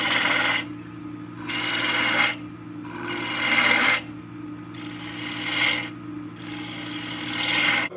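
A detail spindle gouge cuts into turning wood in four steady, rasping passes, each about a second long, with short pauses between them and a constant low motor hum underneath throughout.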